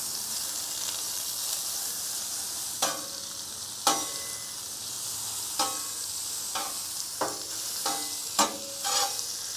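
Butter melting on a Blackstone griddle gives a steady, close sizzling hiss, broken by a handful of sharp metallic scrapes and clicks spaced a second or two apart.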